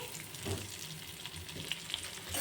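Chopped onions frying in a pan for paneer bhurji, a steady close hiss and crackle of oil that holds evenly throughout with no talking.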